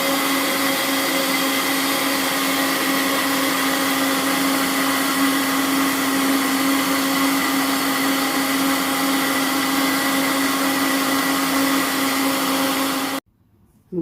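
Blender whirring steadily as it mixes lemon cake batter with lemon essence, a loud, even motor drone with a constant pitch that continues without pause before stopping abruptly near the end.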